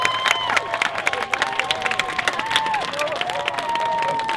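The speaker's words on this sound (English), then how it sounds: "A round of applause for October" A crowd at an Occupy Columbus general assembly claps and cheers, with steady dense applause and whoops lasting the whole moment, some voices calling out over the noise.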